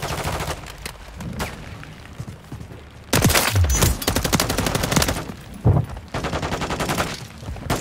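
Rapid automatic gunfire in a video game, loud and close, rattling in sustained bursts with a couple of heavier thumps, after a quieter stretch of scattered shots.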